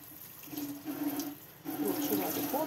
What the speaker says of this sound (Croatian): Ruču vodu puštam.